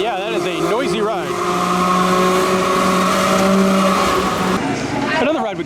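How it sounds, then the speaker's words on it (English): A Falling Star flat ride at an amusement park runs with a loud, steady mechanical whine and rumble. It holds for several seconds with a rising and falling sweep at the start and end. "It's a classic Falling Star. But yeah, that is a noisy ride."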